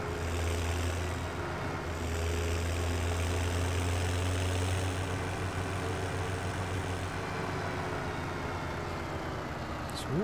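Tractor engine idling in Farming Simulator 17 on the Salling Farm map, a steady continuous droning hum with a low tonal note, unchanging and close throughout.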